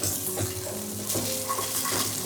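Fresh green peas tipped into a hot upma pan, giving a steady close sizzle and frying crackle with faint stirring and utensil clinks throughout.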